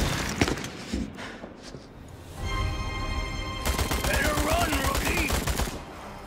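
Rapid automatic gunfire from the Resident Evil 4 remake fills the latter half, loud and steady after a few scattered shots and a rising hum, with no voices over it.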